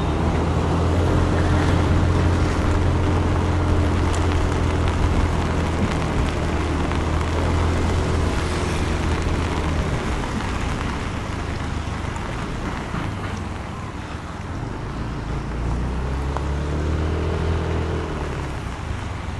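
A Yamaha NMAX scooter fitted with a turbo climbs a wet uphill street in Baguio City during a rainstorm, its steady engine drone and rising tones carried under constant loud wind and rain noise throughout.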